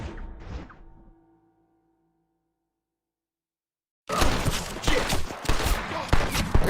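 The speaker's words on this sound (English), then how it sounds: "Okay, could you stop shooting me?" Gunfire in the Western video game Red Dead Redemption: a short burst of heavy shots, a ringing decay and silence, then a dense, loud stretch of rapid overlapping shooting.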